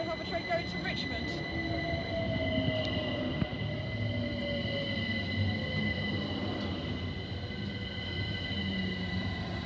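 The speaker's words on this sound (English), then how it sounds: "That was a London Overground train going to Richmond." A London Overground train bound for Richmond rumbles past Brondesbury Park station at moderate distance with a faint rising whine from the wheels, steady and continuous for the whole stretch.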